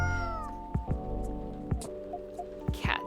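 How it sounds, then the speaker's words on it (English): A cat meows in the video game Coffee Talk 2, a few short, close, clear mews set over a soft game music background with light tapping sounds. "you have a new pet cat then?"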